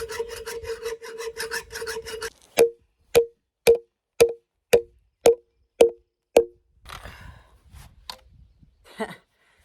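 A hacksaw rasps through metal in a garden build in remote Alaska, a quick run of steady back-and-forth strokes, then a string of sharp evenly spaced knocks and a few scattered clicks.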